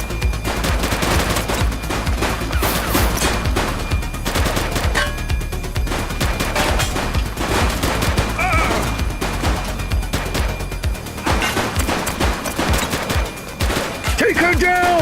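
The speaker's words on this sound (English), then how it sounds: "She's shooting!" Gunfire from a suspect in The Precinct, a GTA-style police video game, comes as a dense, loud, continuous barrage of shots and crashes with almost no gaps over the whole stretch.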